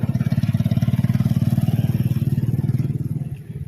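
A motorcycle tricycle passes close on a street in Ormoc City, its engine chugging in rapid, even putters that hold steady and then fade slightly as it moves off.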